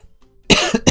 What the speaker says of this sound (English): take a big breath, and then cough for a while